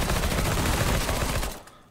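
A P90 fires in the CS:GO shooter game, a fast continuous burst of loud automatic gunfire that stops abruptly near the end.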